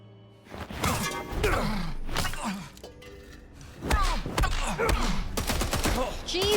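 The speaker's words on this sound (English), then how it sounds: "Stop shooting, dude!" Rapid bursts of gunfire in the video game Indiana Jones and the Great Circle, loud shots clustering in two heavy volleys with thuds, shattering and faint voices between them.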